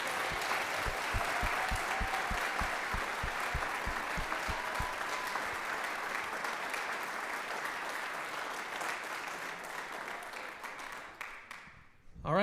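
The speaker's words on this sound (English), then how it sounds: "So let's give one more round of applause for our wonderful seniors." Sustained applause from a band and orchestra concert audience honoring graduating seniors, dense and steady clapping filling the hall for about twelve seconds before tapering and stopping abruptly.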